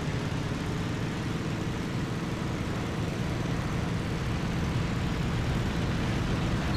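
A WWII fighter plane engine in a flight-combat sim throttles up for a takeoff roll, a loud, steady, broadband drone that holds without a break, with no talking over it.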